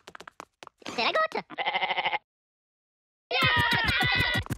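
A goat in Minions: The Rise of Gru bleats loudly in repeated wavering, stuttering calls, broken by short clicks and a brief pause, then a final drawn-out, shaky bleat.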